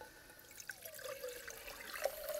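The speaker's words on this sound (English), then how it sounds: "And then I'm going to get my water in here." Water runs from a tap into a coffee press container inside a van, a faint, steady trickle with a rising tone as the vessel fills.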